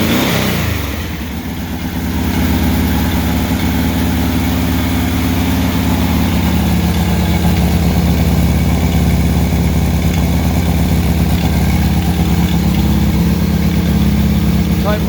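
A Volkswagen 1600SP engine in a retro-style EMPI GTV tribute build idles steadily and close by, its loud, even drone holding throughout without pauses.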